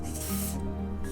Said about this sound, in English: a spray of a silicone type lubricant down in these channels here